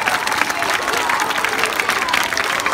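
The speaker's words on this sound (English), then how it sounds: "So let's have a nice round of applause for all of our kids." An audience applauds after a school president campaign speech, a dense, even round of clapping from a crowd lasting a few seconds, with some voices mixed in.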